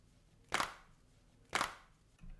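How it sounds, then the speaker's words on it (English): A dry, snappy clap sample plays alone in a music mix. Two crisp hits land about a second apart, and a third begins just as the sound cuts off. "let's quickly listen to this clap sound again"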